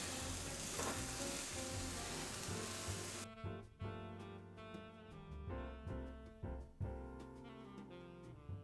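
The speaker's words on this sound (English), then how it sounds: "And give it a good stir." Keto fried rice with ground ginger being stirred in a pan, a loud broadband sizzle for the first few seconds, then giving way to clattering scrapes and knocks of the stirring utensil against the pan.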